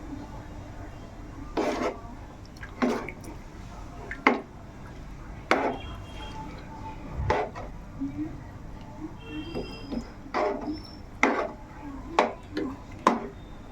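Fish pieces just added to a simmering chepala pulusu (fish curry) are gently stirred in a pot, giving a run of separate knocks and scrapes at an uneven pace over a quiet kitchen background.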